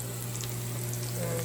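Butter sizzles in a hot pan, a steady close frying hiss that stays even throughout the short moment.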